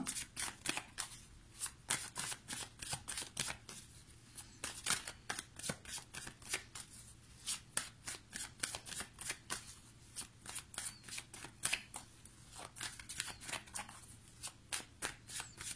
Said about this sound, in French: Je vais tirer 2 cartes.